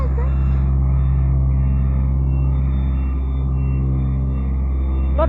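A car arriving, heard as a deep, steady engine rumble close by that holds throughout, with a voice faintly present over it.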